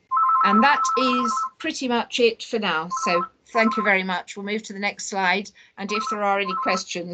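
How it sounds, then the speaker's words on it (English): A landline telephone rings repeatedly in a steady pattern of bursts during an online transport taskforce meeting, heard clearly beneath continuous talking. "I turn my mobile off and I forgot the landline."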